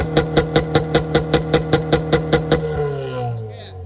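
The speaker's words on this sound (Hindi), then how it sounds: "ये देख लो जी, इंजन को किसी किस्म का मसला नहीं है।" A Honda K20 Type R engine removed from its car runs with a rapid, regular pulsing beat that is loud and near, then slows and fades away as it shuts down.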